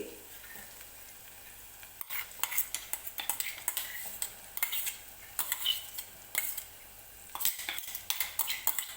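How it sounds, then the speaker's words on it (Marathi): A spoon stirs a ground paste of garlic, coconut, ginger and coriander into a hot pan for a Maharashtrian thali, with irregular scraping and clinking strokes that start after a quiet first two seconds and continue at close range. "तर आता मी हे वाटण टाकून घेणार आहे. लसूण, खोबरं, आलं आणि कोथिंबिरीचं जे आपण बनवलं होतं सुरुवातीला ते."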